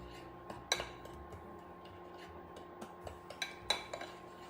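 A utensil stirs brown sugar into a warm, slightly melted sweet potato mixture in a pot, giving quiet scraping and a few sharp metallic clinks against the side in a hushed kitchen.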